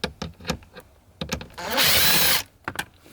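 A power drill runs in one sustained burst of roughly half a second while removing screws from the dashboard of a 2014 VW Passat TDI, framed by short clicks and handling noises before and after.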